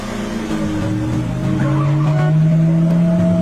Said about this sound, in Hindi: सुमित गाड़ी स्टार्ट करता है।